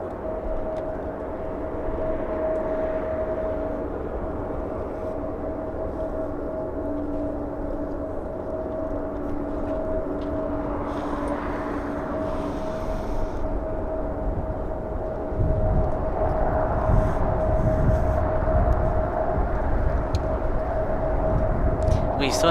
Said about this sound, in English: Here we go, the A350 about to touch down.